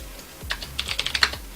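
Keys clack on a computer keyboard in a short burst of quick, close strokes at an uneven rhythm, alone without speech.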